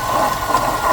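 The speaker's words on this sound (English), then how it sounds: "our main concern is the noise under the engine." A car engine with a bad, wobbling water pump pulley runs with a steady droning hum and faint whine, close and continuous, with no talking.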